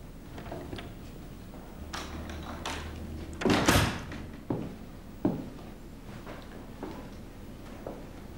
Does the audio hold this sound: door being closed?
yes